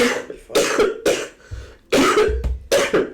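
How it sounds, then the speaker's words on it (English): Repeated harsh coughs in quick bursts, close and loud, with brief throat-clearing between them and no talking. "He's coughing throughout this whole fucking thing."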